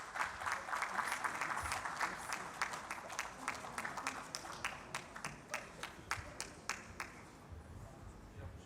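Audience at a trophy presentation for an organising committee applauds, a dense burst of clapping that gradually thins to scattered claps and fades toward the end, with faint voices underneath.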